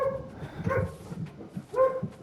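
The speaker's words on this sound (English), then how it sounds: "the dogs are going wild" Dogs barking in short, yelping bursts, with two clear barks about a second apart over a low background rumble, close and moderately loud.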